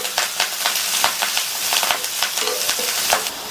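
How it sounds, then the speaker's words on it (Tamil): Onion with garlic and curry leaves sautéing in hot oil, a steady close sizzle broken by repeated scraping stirs from a spoon in the pan. "அடுத்து கறிவேப்பிலை சேர்த்து இந்த வெங்காயம் லைட்டா ஒரே 1 நிமிஷத்துக்கு மட்டும் வதக்கிக்கலாம்."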